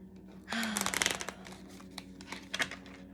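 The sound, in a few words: shuffling oracle cards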